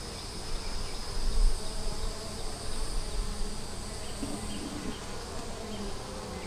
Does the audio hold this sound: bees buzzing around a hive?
yes